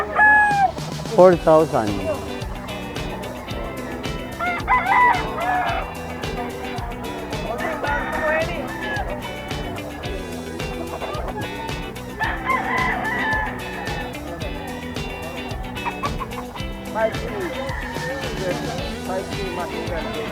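Sweater gamefowl roosters crow repeatedly at a Bocaue pet market, several cock-a-doodle-doo calls rising over clucks and busy market chatter as people talk nearby.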